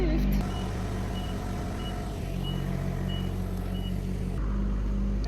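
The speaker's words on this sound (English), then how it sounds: "Driving the lift." A lift being driven inside a food bank hums at a steady engine drone, with regularly spaced electronic reversing beeps sounding over it at close range and no talking.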